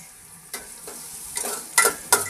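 Onions frying over a low gas flame, a soft steady sizzle punctuated by a few sharp scrapes and stirring clicks, close and moderately quiet with no talk.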